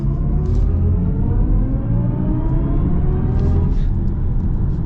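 A 2023 BMW i4 eDrive40 electric car accelerates in sport mode, its synthetic drive sound rising steadily in pitch over a loud, continuous road rumble heard from inside the cabin.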